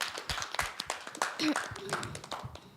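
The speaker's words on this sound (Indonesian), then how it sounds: "tepuk tangan untuk Andika." Scattered hand claps sound under talking at a church youth gathering, a light, uneven patter from a small group rather than full applause.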